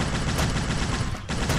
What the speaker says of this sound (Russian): у нас сейчас автомат всех уничтожает